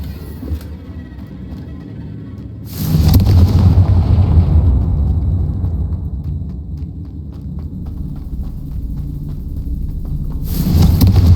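A Confringo fire spell in Hogwarts Legacy goes off with a loud booming blast that rumbles and fades over several seconds, then a second explosion bursts in near the end.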